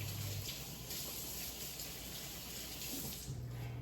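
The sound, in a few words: rinsing hands under running tap water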